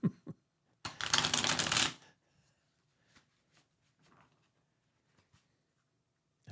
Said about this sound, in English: I'm still shuffling the cards.